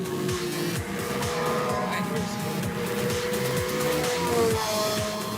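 A race car approaches on a circuit during an endurance race, its engine droning steadily amid a dense wash of other cars and crowd noise, with a voice briefly heard over it.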